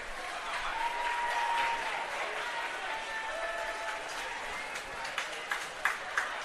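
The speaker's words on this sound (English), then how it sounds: "Let's give one more round of applause to all these outstanding student athletes." A crowd at a women's college swimming and diving championship applauds, a broad, moderately distant wash of clapping with a few sharper nearby claps toward the end.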